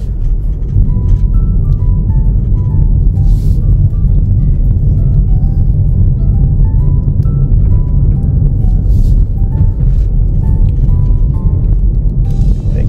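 Hyundai Ioniq 5 electric car driving carefully, a steady low road and motor hum with faint whining tones throughout, continuous and fairly loud.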